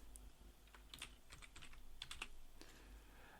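Light tapping on a computer keyboard while working in Kdenlive video editing on Linux. Soft, irregular clicks come in short bursts, faint and close against a low steady hum, with no voices.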